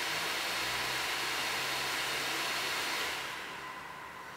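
Reference blower fan of an RX 480 graphics card spinning fast at high speed, a loud steady whooshing hiss that eases off and quiets slightly near the end.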